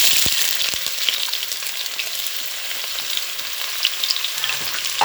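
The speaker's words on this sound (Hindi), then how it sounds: "प्याज ऐड करके बीच में इसको अच्छी तरह से हिला देंगे।" Onions sizzle and crackle steadily in hot oil in a pan for chicken pulao, with occasional stirring knocks, a dense close-up frying hiss throughout.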